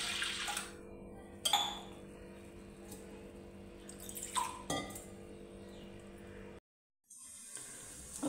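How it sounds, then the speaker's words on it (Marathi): Lentils (dal) are washed in water in a kitchen vessel: quiet sloshing and trickling water with a few sharp clinks of a metal pot or glass, then a brief silence before more splashing. "चला तर आपण आता डाळ स्वच्छ धुवून घेऊ"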